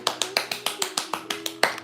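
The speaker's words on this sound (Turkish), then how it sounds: "Mary'i alkışlayalım hep beraber" Hands clap in an even, quick rhythm for a little girl who has been drawing at home, about nine sharp, close claps in under two seconds with no talking.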